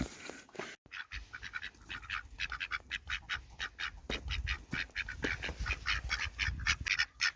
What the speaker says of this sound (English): But then the ducks chased her off, but they stopped fighting.